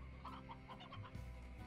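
Stony chickens cluck in Slime Rancher, a few short clucks over steady background game sound.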